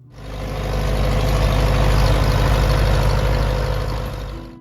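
Farmall M farm tractor engine running steadily, a loud low-pitched mechanical drone that swells in at the start, holds a constant throb, then eases off at the end.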